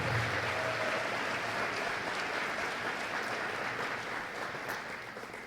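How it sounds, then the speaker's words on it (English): Steady audience applause at a hall of fame induction ceremony, a dense wash of clapping that holds for several seconds and fades slightly toward the end. "can we please give a round of applause for Dr. Gay Selby?"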